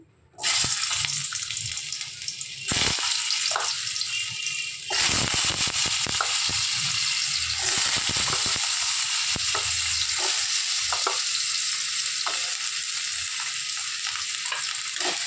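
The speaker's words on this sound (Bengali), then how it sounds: "আলুগুলোকে লাল করে ভেজে নেব" Potatoes fry in hot oil in a wok, a steady, loud sizzle running throughout, with a brief break near the start and a few short clatters along the way.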